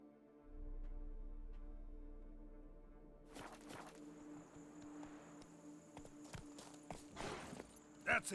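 Roach the horse from The Witcher 3: Blood and Wine clip-clops across the ground with a steady, soft hoof rhythm over faint crickets and low game music, with a louder clatter near the end.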